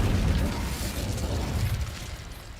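A fiery spell burst in the Hogwarts Legacy video game, a loud rumbling whoosh with heavy low-end roar that holds steady for a few seconds and slowly eases off.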